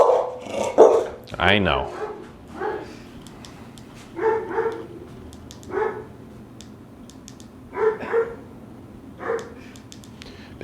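A young dog barks in short sharp bursts during an e-collar training session, about six or seven separate barks spaced a second or two apart, fairly close, with a person briefly speaking between them.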